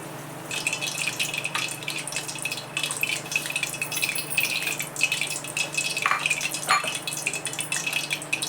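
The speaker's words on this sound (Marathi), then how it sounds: "हे किस चांगला पिळून घेते पाणी काढून" Grated potato is squeezed by hand in a kitchen, letting water drip and trickle out in a soft, steady stream with a few sharper drips, close and fairly quiet, with no talking.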